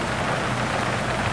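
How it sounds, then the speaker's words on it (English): Steady rain falling outdoors in wet spring weather while the sun shines, a dense continuous hiss of drops close by with no pauses. "the rain is still coming down, but the sun is definitely out now"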